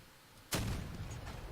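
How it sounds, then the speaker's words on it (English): In the vehicle combat game Crossout, a fuel barrel explodes in a single sudden loud boom, followed by a rumbling decay. "if it explodes far away, then it's not going to do the damage"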